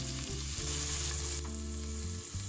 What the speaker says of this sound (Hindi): लहसुन अदरक का पेस्ट इसमें हमने डाल दिया है और थोड़ा सा डाला ऑयल। इसको 2-3 मिनट फ्राई करेंगे